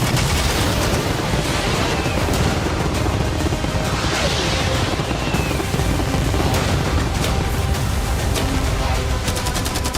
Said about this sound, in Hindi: मैं चाहता हूँ कि तुम कैनन्स, फायरवर्क्स, एरोज, कैटापुल्ट्स सब कुछ एक साथ फायर करो।